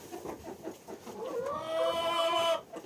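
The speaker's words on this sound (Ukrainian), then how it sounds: "Та курка не кричи" A hen clucks and squawks close by, rising into a sustained, drawn-out cackle near the end.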